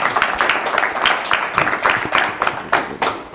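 A small crowd at a certificate-awarding ceremony claps in a lively round of applause, individual claps clearly audible and fairly loud.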